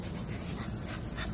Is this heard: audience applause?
no